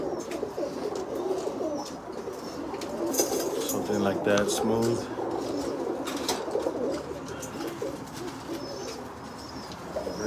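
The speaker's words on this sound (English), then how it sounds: "Birds, man." Spinner pigeons in a loft coo softly and repeatedly in the background while someone speaks over them, joined by faint chirps and a brief flutter of wings.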